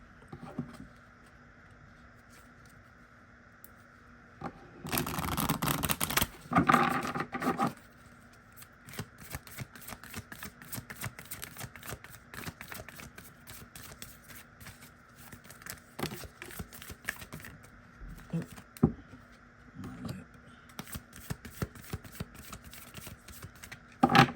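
A deck of tarot cards is shuffled in a bright, riffling burst midway, followed by softer intermittent card handling and brushing sounds, fairly close and quiet with no talking.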